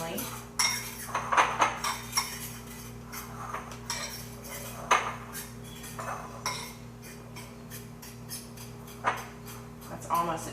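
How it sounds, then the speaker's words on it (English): A fork scrapes and clinks steadily against a bowl while stirring flour and cocoa for Southern chocolate gravy, sharp metallic scratches coming in irregular bursts up close, with faint kitchen hum underneath. "I just have a fork. I'm going to mix these together"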